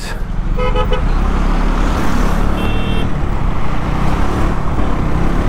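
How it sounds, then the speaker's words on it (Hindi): Traffic jammed on a road in Kashmir: car horns toot in short bursts over a dense, continuous rumble of idling engines. "ट्रैफिक जैम लग चुका है गाइस"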